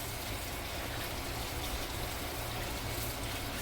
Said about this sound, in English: I'm washing my hand thoroughly with the antibacterial soap